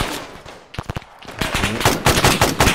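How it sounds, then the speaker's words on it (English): Gunfire in the military video game Arma 3: a few sharp close shots followed by loud, rapid automatic bursts, with no voices. "Let's just fire blindly, hopefully we hit somebody."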